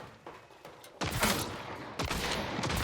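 Shotgun blasts in a video game, two loud booming shots about a second apart, each with a sharp attack and a lingering echo over a low background of distant firing.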